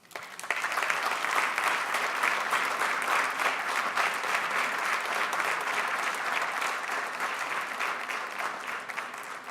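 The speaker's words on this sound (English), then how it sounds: "Thought you guys were going to clap longer." After a lecture on forgiveness and joy, an audience breaks into a full, even round of applause that swells quickly and carries on steadily, easing slightly near the end.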